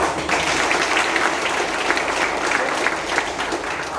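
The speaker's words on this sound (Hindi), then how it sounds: "आप लोग के जोरदार ताली के साथ में उनको" An audience at a DXN gathering breaks into loud, sustained applause, a thick wash of many hands clapping at once with no voice over it.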